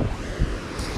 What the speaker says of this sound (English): I'm at the beach. In the beach of the ocean.